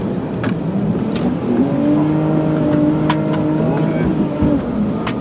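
A tuned car used for drifting revs hard nearby, its engine note climbing and holding in long loud sweeps over a constant roar, with faint voices in the background.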